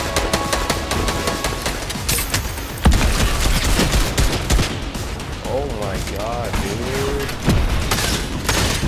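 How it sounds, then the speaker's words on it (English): Gunfire in Fortnite, with rapid repeated shots in quick bursts, some loud and close and some further off, under a player's talking. "Who the hell are they shooting at?"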